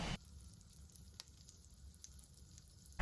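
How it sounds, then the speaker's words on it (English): Butter melts in a pan while cooking moules provençal, giving a soft, steady sizzle and faint crackle near at hand, with a few small pops and clatters over a quiet kitchen background. "So the butter is starting to melt."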